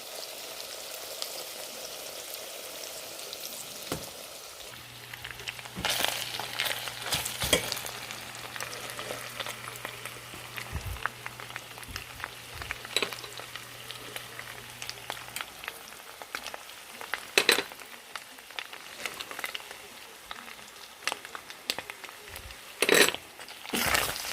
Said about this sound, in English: Keep mixing until the meat juice is already drained.